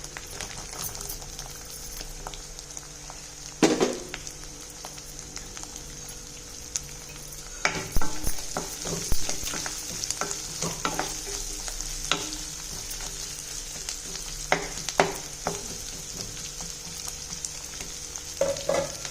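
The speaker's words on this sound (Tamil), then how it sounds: "நல்லா வதக்கிடணும் எண்ணெயில்" Small shallots sizzle steadily in hot oil, with occasional scraping stirs and clanks of a spoon against the pan, close and continuous.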